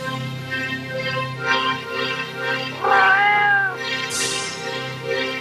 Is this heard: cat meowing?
yes